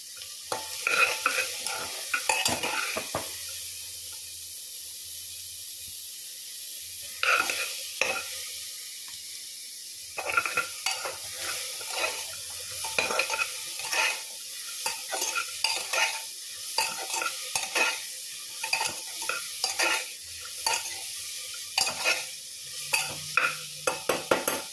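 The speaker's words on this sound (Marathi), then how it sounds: "आता हे थोडं स्टर फ्राय करून घेऊया आपण." Vegetables and a small tomato are stir-fried in a pan for a mixed dal premix vegetable soup, with a soft sizzle under repeated spatula scrapes and clinks that grow busier and more rhythmic toward the end.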